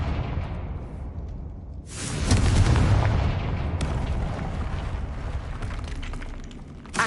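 A Confringo fire-blast spell explodes in Hogwarts Legacy, a sudden deep boom after a quieter stretch, followed by a long rumbling roar that slowly fades, with a small burst at the very end.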